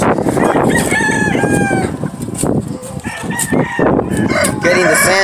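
Several gamefowl roosters crow loudly and close by in their pens, their calls overlapping one after another with no pause.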